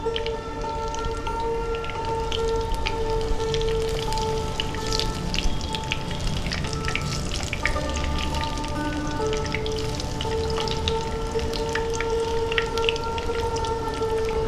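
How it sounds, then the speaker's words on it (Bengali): Lentil fritters (bora) fry in oil over a medium gas flame, producing a dense, continuous crackling hiss like rain throughout, with a steady tonal hum underneath and no talk. "গ্যাসের ফ্লেমটাকে মিডিয়ামে করে আমি বড়াগুলো লালচে করে ভেজে নেব"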